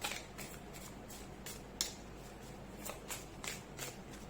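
Tarot cards being shuffled by hand to draw a card, a close papery riffle of soft flicks and brushes that comes in several brief bursts over a quiet room.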